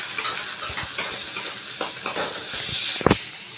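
Chopped tomato frying in a pan over ginger, onion and garlic, a bright hissing sizzle with repeated spatula stirs and scrapes, one louder clatter near the end, close and without speech.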